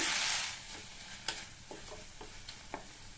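Onions and two medium tomatoes sauté in a pan for a ridge gourd side dish, with a steady soft sizzle and a few sharp spatula taps and scrapes at intervals.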